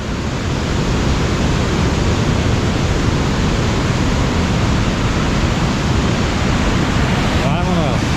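A campsite waterfall roars in a loud, constant wash of falling water, broad and unbroken throughout, with a faint voice briefly surfacing near the end.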